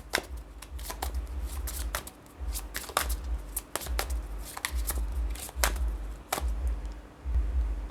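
Tarot cards being shuffled by hand, a run of crisp riffling and snapping bursts repeating through the stretch, close and clear with no talk.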